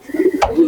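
Domestic pigeons cooing up close, a few soft throaty coos in quick succession, fairly loud and clear with no talking.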